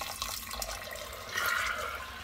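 Water pours into a pot of dal makhani with kidney beans, a steady close splashing stream with a brief louder gush partway through.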